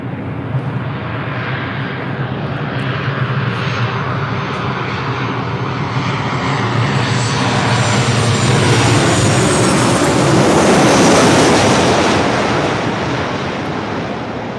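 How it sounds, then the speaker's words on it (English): An Alaska Airlines Boeing 737-900ER inbound from Seattle lands at LAX with a loud, steady jet roar that swells to a peak and eases slightly as it passes close by. "This is Alaska Airlines Flight 1220 coming in from Seattle on a 737-900ER."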